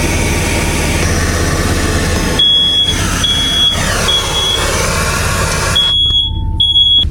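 Short high-pitched fire alarm beeps sound in a few bursts over a steady low engine rumble, loud and close, aboard a boat.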